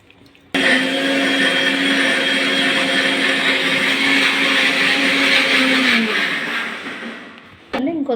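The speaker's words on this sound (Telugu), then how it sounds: "ఒక మిక్సీ జార్ తీసుకుని గోంగూర అయితే ఫస్ట్ మిక్సీ అయితే వేసి పెట్టుకుంటే" A mixer grinder blending gongura leaves whirs loudly and steadily for several seconds, then winds down and stops, with brief sounds after.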